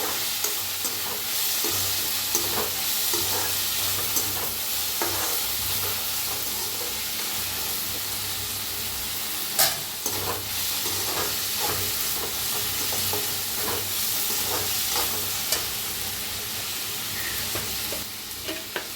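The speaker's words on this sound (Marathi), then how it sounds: "टमाटरला आणि कांद्याला बी चांगलं भाजून घेऊया" Tomato and onion frying in a pan for egg fried rice, a continuous loud sizzle with repeated spoon scrapes and stirring knocks throughout, close up with no talk.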